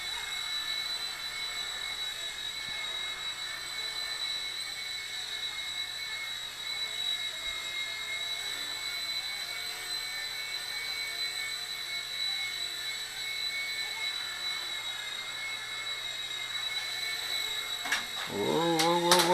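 Syma F4 Assault RC helicopter flying indoors, a steady high-pitched electric whine and buzz of motor and rotors held at close range, ending with a sudden rising surge and a couple of sharp knocks.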